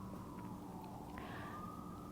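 An emergency vehicle siren wails faintly in the distance on a Manhattan street, a long gliding tone over low city hum.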